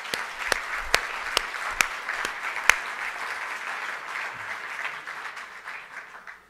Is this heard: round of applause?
yes